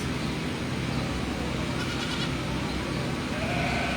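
Boer goats with newborn kids bleat at a fair birthing barn, a faint high cry emerging late over a constant low rumbling background hum.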